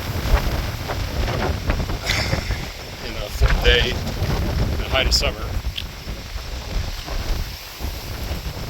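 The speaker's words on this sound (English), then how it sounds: "It's nice and windy though" Steady wind buffets the microphone with a constant roar, and a person talks over it.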